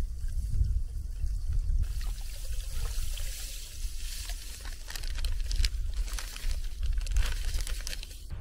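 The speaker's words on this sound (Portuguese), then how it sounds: "vou despejar o sal todinho aqui e mexer bastante e misturar o detergente também" Salt poured into a bucket holding about 12 litres of water, then stirred, for a homemade weed killer: continuous close splashing and sloshing of liquid with no talk.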